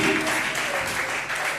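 Congregation applauding and cheering during a church baby presentation, a steady wash of clapping from many hands that holds for the whole moment, with voices mixed in under it.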